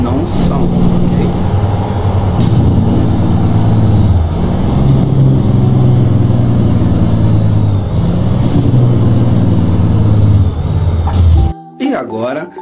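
Simulated heavy truck diesel engine in a truck-driving video game, a loud, continuous droning rumble with rising and falling revs and a hiss like an air brake near the end.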